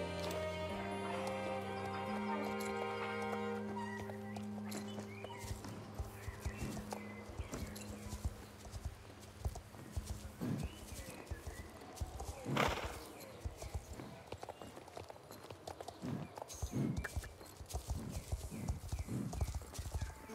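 Horse hooves clip-clop in the video game Star Stable Online, a steady walking rhythm of crisp, close hoofbeats, with a brief whinny and game music at the start.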